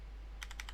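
A quick burst of four crisp keystrokes on a computer keyboard, evenly spaced and close, over a low steady hum.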